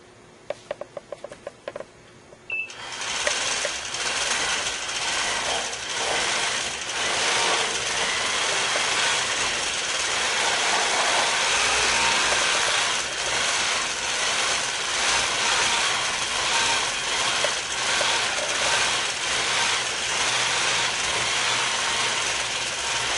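A longarm quilting machine running a paper pantograph pattern, stitching in a dense, steady mechanical whir with faint rhythmic ticking after a few quiet clicks at the start.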